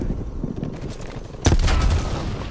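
A grenade detonates in the shooter game Black Ops Cold War, a loud sudden blast midway that keeps rumbling with gunfire-like crackle after a stretch of quieter background noise.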